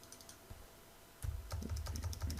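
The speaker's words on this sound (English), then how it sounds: "I might just have to type this text inside here" Faint computer keyboard typing, a few scattered clicks first, then a quick, steady burst of keystrokes close by.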